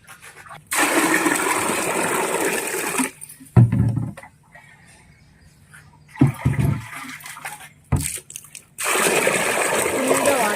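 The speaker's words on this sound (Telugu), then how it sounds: "దీని నిండా నీళ్ళు నింపేస్తాను" Water gushes loudly into a container in two long runs, separated by a pause with clunks and handling noises.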